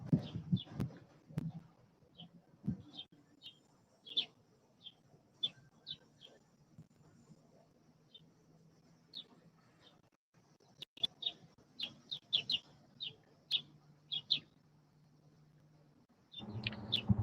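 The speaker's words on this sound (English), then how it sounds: "it's a bird about 8 feet from it" A bird in a tree about eight feet away chirps repeatedly in short, high, irregular tweets, clear but not loud over a quiet background with occasional low thumps and handling noise.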